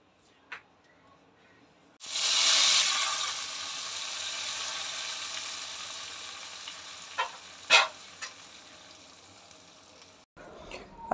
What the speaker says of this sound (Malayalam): അതിനുശേഷം പിന്നെ കടുകൂടെ വറുത്ത് ചേർക്കണം ഇതിൽ